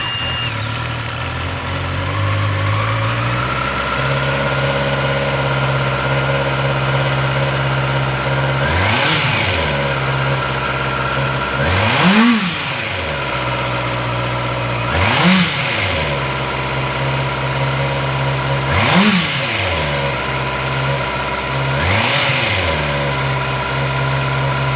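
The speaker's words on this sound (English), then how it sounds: "Just take a listen to how the 2024 Honda CB650R sounds." A 2024 Honda CB650R motorcycle with a quiet muffler starts and idles, then revs five times in evenly spaced bursts that rise and fall back to a steady, close idle.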